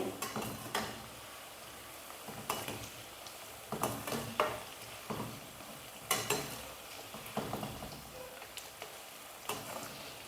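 Bitter gourd frying in a pan, stirred now and then: a steady soft sizzle with repeated scraping stir strokes, close and moderately quiet, no talk.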